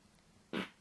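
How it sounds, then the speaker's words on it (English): A single short, low, buzzy burst of flatulence, close and moderately loud, breaks a quiet background and fades quickly. "I can feel that I'm going to fart again."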